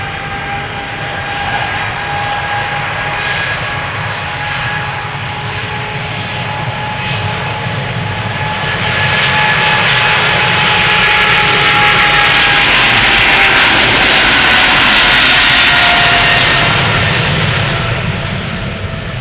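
An Emirates SkyCargo Boeing 777 freighter jet engine roars through a rolling takeoff at Amsterdam Schiphol Airport. The steady loud rumble and whine swell louder midway, then ease slightly, with no talking.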